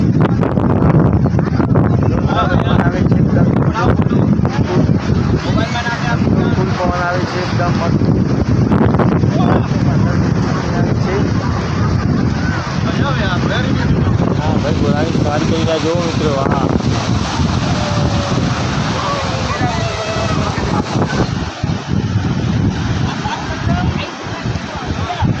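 Wind buffets the microphone on a seashore at Dwarka–Somnath, with the rumble of sea waves beneath, loud and continuous while someone talks over it.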